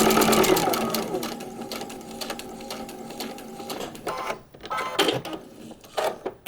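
A sewing machine stitches a paper-pieced quilt block, running steadily and fairly close for about four seconds before slowing into a few shorter stuttering bursts.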